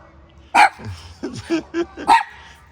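A dog barks several times at a state campground, a quick irregular run of short, close barks and yips, while people talk nearby.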